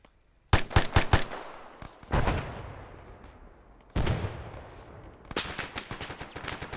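Suppressing machine gun fire in a military video game: loud, close bursts of rapid shots come in several rounds, each trailing into a long rumbling echo, with short gaps between the volleys and no talking.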